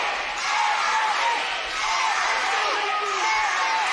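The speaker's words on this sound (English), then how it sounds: "This crowd has just erupted." A wrestling crowd at a Halloween hardcore show roars and cheers, a dense, loud, sustained wall of voices with whoops rising through it the whole time.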